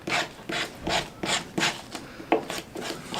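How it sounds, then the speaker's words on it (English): Small wood pieces are sanded by hand with short, even back-and-forth rasping strokes, about three per second, close and clear with no voices. "I'm just gonna be careful so I don't break anything off as I'm sanding these."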